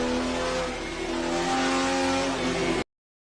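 A Porsche engine screams at high revs during testing, a loud, sustained rising wail with tire noise underneath that cuts off abruptly into silence.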